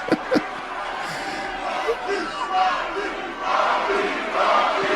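A wrestling arena crowd cheering for The Rock as he plays the villain, a loud, sustained roar of many voices that swells in waves, with a couple of sharp bursts at the start.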